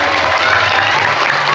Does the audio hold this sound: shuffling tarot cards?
no